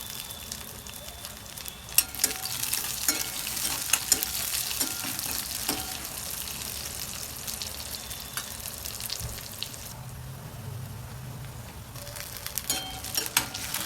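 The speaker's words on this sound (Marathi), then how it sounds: "कांदा फ्राय झाला मिरच्या टाकून घ्यायच्या वरी" Onions and green chillies sizzle steadily in a pan, with a busy crackle and occasional sharper pops as they are stirred, with no one speaking.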